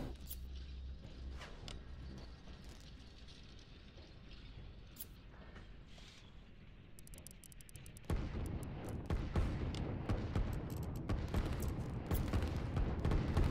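Artillery in Line War booms over a steady rumbling battlefield, with repeated sharp thuds that grow denser and louder partway through, an irregular barrage of distant and nearer shots.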